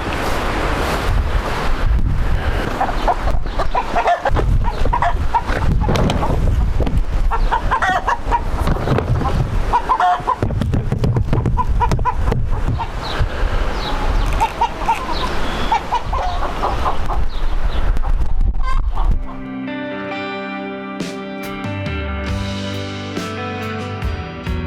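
Chickens clucking and scratching as they pick through dumped brooder feed on a small homestead, steady outdoor wind noise washing over the flock for most of the stretch, then a quieter tail end.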